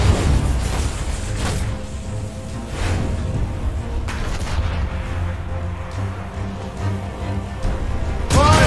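Ship cannons fire repeatedly in a naval battle in Assassin's Creed Rogue, with several low booms and crashes spread across a dense, continuous rumble of combat.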